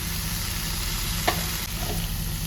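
Snake gourd curry with softened onions being stirred in a hot pan, a steady broad sizzle with one sharp scrape of the spoon near the middle, close and fairly loud.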